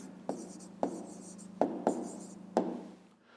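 A pen writes down an answer on paper by hand in a quiet room, making a series of soft scratching strokes with short pauses between them, close and faint.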